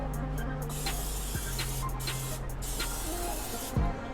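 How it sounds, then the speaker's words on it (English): A steady hiss of Pam aerosol cooking spray onto a cast iron pan lasting several seconds, with a few faint clicks and a soft low hum underneath. "take my cast iron, I'm gonna spray it with some Pam."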